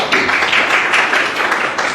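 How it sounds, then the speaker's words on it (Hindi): Audience applause at a college induction meeting, steady crowd clapping that swells and holds for about two seconds, close and loud, with no talking over it. "तालियां"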